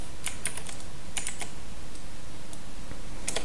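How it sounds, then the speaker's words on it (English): Keys clacking on a PC keyboard in short irregular bursts, close and fairly soft, with brief pauses between flurries and no voices. "I'm just going to type in "this is how.""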